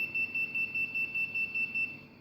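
A homemade fire alarm buzzer beeps in a rapid, even series of about eleven short, high-pitched tones, fairly faint and close, then stops, leaving a quiet hum.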